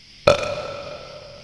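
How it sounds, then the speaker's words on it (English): A man gives a single loud, close belch that starts abruptly and rumbles on with a drawn-out tone before fading, with no talk around it. "he belched."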